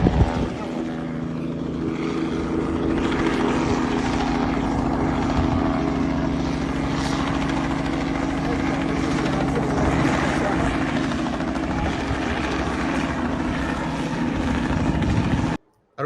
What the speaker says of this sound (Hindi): ये हेलीकॉप्टर उड़ रहा है, हाका जा रहा है।